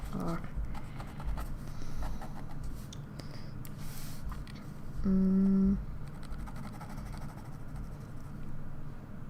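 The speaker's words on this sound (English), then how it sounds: "It makes horrible scratchy sounds because I have to press it so hard." Pen scratching across sketchbook paper while drawing bunnies, pressed down hard; a faint, continuous rough scraping fills the clip with small irregular strokes, and a brief louder tonal hum sounds briefly midway.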